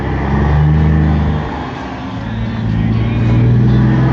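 A truck engine close by rumbles and revs, its pitch dipping and then climbing again in a loud, throaty surge, with someone talking faintly over it.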